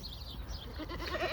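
Goats bleat at a goat market in Canada, several wavering calls rising near the end over a busy background.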